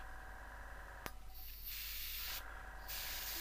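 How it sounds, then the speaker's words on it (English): An airbrush fed by an air compressor fires short test sprays for a 1/24 scale Airfix Hawker Typhoon model, two brief hissing bursts over a steady low background hum. "Let's turn the air compressor on and just do a couple of test shots"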